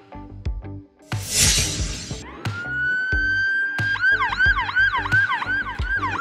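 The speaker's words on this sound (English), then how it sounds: "Police SUV." A police SUV siren winds up into a rising wail and then shifts to a rapid yelp that cycles repeatedly, loud and close, with a shattering crash and clunks heard early on.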